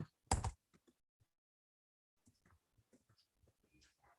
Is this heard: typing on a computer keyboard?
yes